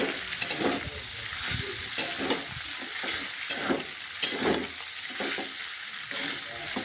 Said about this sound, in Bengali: পাস্তাগুলোকে দিয়ে ভালোভাবে আমি মিক্স করে নিচ্ছিলাম